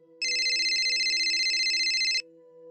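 A phone ringtone plays as a steady, bright electronic warble for about two seconds, loud and close, over a faint low hum, then cuts off abruptly.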